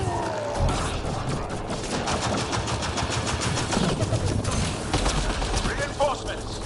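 Dense gunfire in a Mass Effect Andromeda firefight, steady and loud throughout with sharp crackling bursts and some voices over it.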